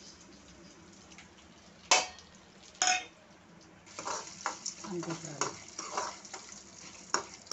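Dried red chillies, urad dal, chana dal and mustard seeds frying in hot oil for a tempering, with sharp spoon scrapes against the pan and then a busy crackling sizzle; a voice speaks briefly.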